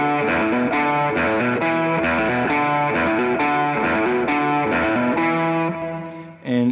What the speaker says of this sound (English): So that riff that the guitarist is playing sounds like this.